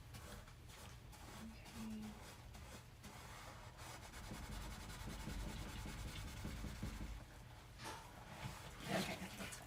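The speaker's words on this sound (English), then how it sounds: "I don't want to scrub this surface. Yet here I am scrubbing." Scrubbing black burnt stains off a pan surface, a continuous rough rubbing scrape, close and fairly quiet, with no pauses.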